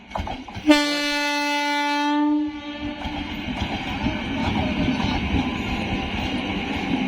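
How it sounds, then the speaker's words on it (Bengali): A Sealdah–Lalgola passenger train enters a station, sounding a loud, sustained horn for about two seconds before the blast cuts off, leaving a rumbling, clattering train passing close by. "একদম শিয়ালদহ লালগোলা প্যাসেঞ্জার স্টেশন এই মুহূর্তে ঢুকছে"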